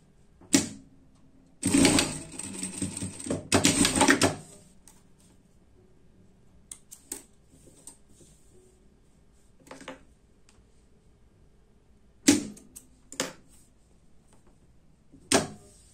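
A sewing machine runs in two short bursts of rapid stitching along a seam of a school jacket, separated by a brief pause, with scattered clicks and taps of handling afterward in a quiet room.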